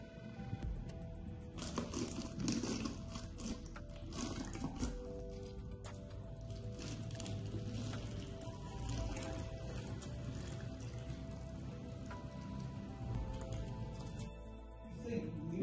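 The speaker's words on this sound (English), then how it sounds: "Now fill the bottle with water." Water pours steadily into a plastic bottle fitted with a glued-in straw for an air pressure experiment, a continuous, fairly close splashing and gurgling fill that lasts throughout.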